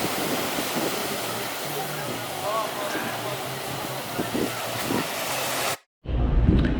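Ocean waves roll onto the North Kona shore of Hawaii Island, a steady broadband wash of surf with wind, then a sharp cut and a louder close crash at the end.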